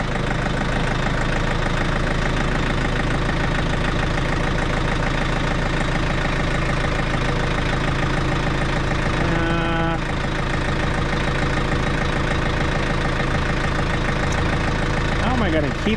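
Frontier brush mower engine running, a loud continuous rumbling idle close by, with someone talking over it.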